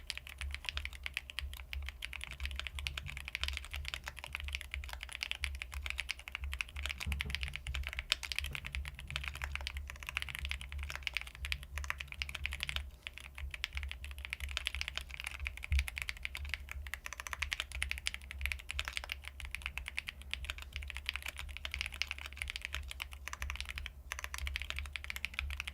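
Continuous typing on a Bubble 75 keyboard, steady clacking keystrokes close to the microphone throughout, with a low hum underneath and no talking.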